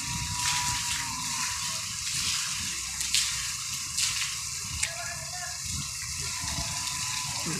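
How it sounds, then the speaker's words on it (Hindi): Steady broadband rush of heavy rain and floodwater running through streets and into houses in Lahar, continuous throughout, with a few sharper splashes and a faint voice underneath. "आज हमारे लार में पानी बरस रहा है, आप लोग देख सकते हैं बहुत बहुत भयंकर पानी है।"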